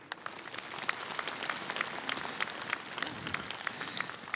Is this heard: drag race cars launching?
no